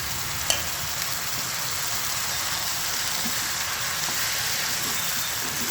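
Vegetables go into frying masala with silver carp, a steady loud sizzle and hiss that carries on evenly throughout, opening with a faint clink, with no voices.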